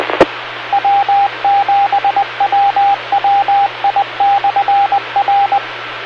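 Morse code beeps in a single steady tone, keyed in short and long bursts over radio hiss, following a sharp click at the start.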